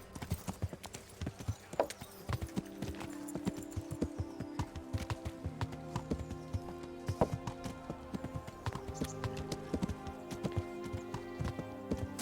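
Hooves clip-clop in a steady trotting rhythm, close and crisp, with a brief horse whinny near the start and faint sounds in the background, from the video game Kingdom Come: Deliverance.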